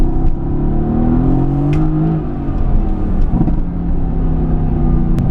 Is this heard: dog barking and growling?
no